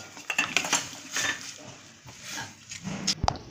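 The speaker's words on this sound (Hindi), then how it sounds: "तो इसको जब तक चलाना है जब तक कि इसमें एक तार की चाशनी नहीं आ जाती।" Jaggery being stirred in a pan on the gas to make syrup for a sweet-sour mango pickle, with scattered metallic clinks and scrapes of a spoon against the pan, close and fairly quiet, ending in a sharp tap.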